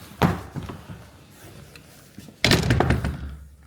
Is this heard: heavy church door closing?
yes